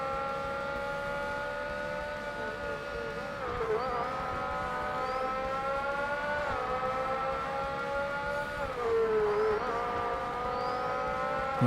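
Racing cars in Forza Motorsport, a BMW among them, drone with a sustained high engine whine that rises and dips with gear changes, loud and continuous with no talking.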